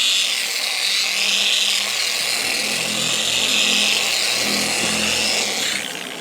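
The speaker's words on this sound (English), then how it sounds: "I have the machine on speed 2." A car paint machine polisher runs steadily on speed 2, spreading product over the paint with a loud, continuous whirring hum and a faint rhythmic pulsing, winding down at the very end.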